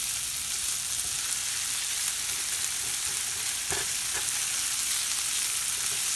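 Bacon, onion and red potatoes sizzle steadily in a pan, a dense continuous hiss with a few faint scrapes of stirring.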